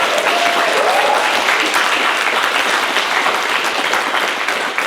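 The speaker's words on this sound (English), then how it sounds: "a round of applause again, but dedicated just for these guys" Sustained audience applause at a panel talk held at The Runway Market, dense and steady throughout with a faint voice briefly rising near the start.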